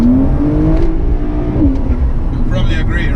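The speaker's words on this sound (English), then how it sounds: "the car sounds good enough as it is" Porsche 911 992 Carrera S engine revving loudly nearby, a rising and falling mechanical drone with a rev climb, heard beneath someone talking.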